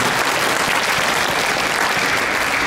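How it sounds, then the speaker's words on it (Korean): Church congregation applauding at a Seventh-day Adventist service in Loma Linda, a dense, steady wash of clapping hands filling the room without pause, loud and continuous, with no speech over it. "우리 스잔다 우리 자매님께 저희 큰 박수로 저희들의 마음을"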